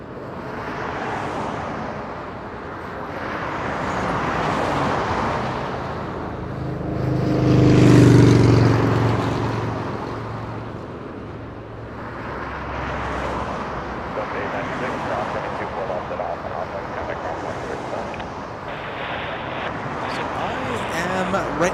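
Jets arrive at Los Angeles International Airport, a broad roar that swells and fades in repeated waves at a distance, with one louder pass in the middle and voices speaking over it.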